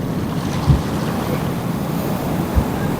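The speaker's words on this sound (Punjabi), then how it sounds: "ਇੱਧਰ ਵੀ ਪਾਣੀ ਦੇਖੋ ਕਿੰਨੀ ਤੇਜ਼ੀ ਨਾਲ ਜਾ ਰਿਹਾ ਸਾਰੇ ਦਰ ਖੁੱਲੇ ਹੋਏ ਨੇ" Steady, broad rush of river water roars continuously through open floodgates at Harike Pattan, with wind buffeting the microphone, plus a couple of soft thumps.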